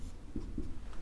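Pen writing on paper during a percentage maths lesson, with a few short scratchy strokes close up and no talking.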